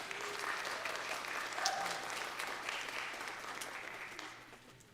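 Audience at a freshmen festival choir concert gives a round of applause for teachers and parents, moderately distant clapping that swells briefly and fades toward the close.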